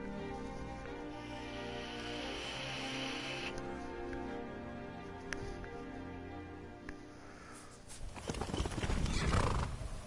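Horse in Skyrim neighing and clopping along, with whinnies over steady hoofbeats that swell into a louder, busier burst near the end; no talk.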